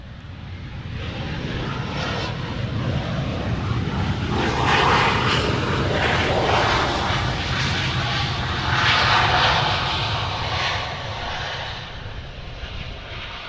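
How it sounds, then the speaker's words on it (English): CRJ regional jets at Gerald Ford Grand Rapids International Airport, one taking off and one landing: a loud, sustained engine roar that swells twice and holds steady throughout, with no voices. "CRJ on CRJ. One about to take off, one landing."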